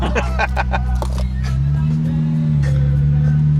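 A Ferrari 488 engine runs at low revs, a deep steady drone that rises slightly in pitch partway through, with clicks, handling noises and background murmur over it.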